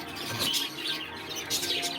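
Young Giribaz pigeons at a home loft in Santipur, Nadia, calling in short chirping bursts close by, with soft rustling between calls.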